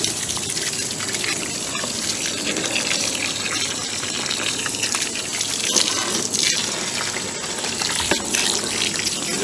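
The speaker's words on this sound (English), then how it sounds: "All right, so I'm rinsing it out right now. I have a water hose." A garden water hose gushes steadily while rinsing black coal aquarium sand, giving a loud, close, continuous rush of splashing water with no one speaking.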